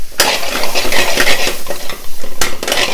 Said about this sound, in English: Let the spice simmer in.